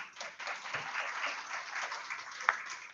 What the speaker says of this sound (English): Could we have a round of applause, please?